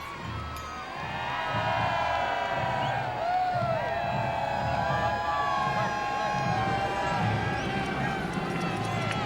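An enthusiastic street crowd at the 2001 Toronto Santa Claus Parade cheers and shouts steadily, children's high voices mixed into a dense, sustained roar that swells after the first couple of seconds.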